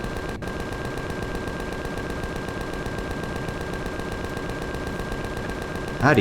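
Gunfire in the sci-fi survival game Empyrion, rapid evenly spaced automatic shots in a continuous burst over a faint tone, with a louder clatter at the end and no talking.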